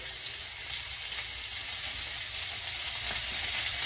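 Hamburger steaks fry in grease, giving a loud, steady, close hiss and sizzle that carries on without a break.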